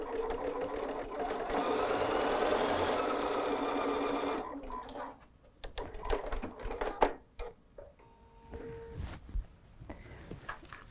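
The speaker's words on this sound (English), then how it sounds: "let's sew a 1/4" seam" A sewing machine stitches a quarter-inch patchwork quilt seam in a steady, close, rapid whirring run for about four seconds, followed by quieter handling clicks and fabric rustling.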